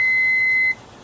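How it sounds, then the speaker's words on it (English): A single steady electronic beep from a backhoe or horizontal drill's start system sounds loudly for under a second, then cuts off, leaving quiet background hum. "Wait for the beep"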